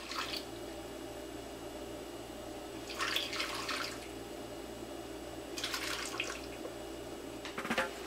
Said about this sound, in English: Now I'm going to pour the warm vinegar mixture